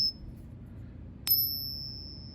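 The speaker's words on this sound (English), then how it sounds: "these Eagles sound on a ping test" A silver Eagle coin gets a ping test, ringing out twice with a clear, high, sustained metallic tone, the second strike louder and lingering over a quiet background.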